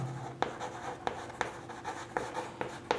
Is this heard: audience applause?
no